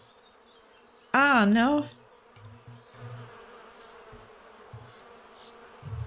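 Bees buzzing in a Sherlock Holmes beekeeping video game: a loud, wavering drone swells for under a second, then fades to a low hum while a person speaks briefly.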